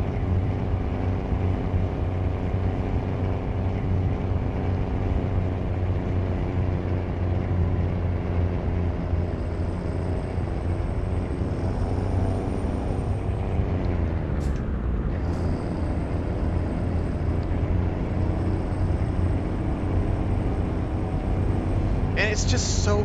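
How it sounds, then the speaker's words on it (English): Truck engine droning in American Truck Simulator on a drive from Hermosillo toward the Chihuahua mountains, a steady continuous hum with a faint whistle on top, a voice talking over it. "Really, just let the engine sound here."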